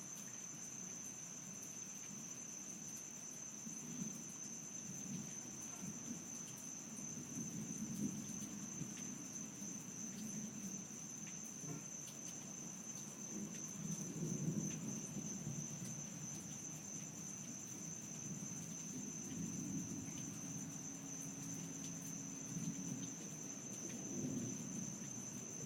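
Low, distant thunder rumbles softly on and off through a nighttime lightning storm, with a steady high chirp of crickets over it throughout.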